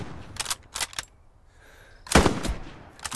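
Gunfire from the World War II shooter game Hell Let Loose: several sharp bursts of shots, the loudest near the middle, with quieter shots before and after and no talk.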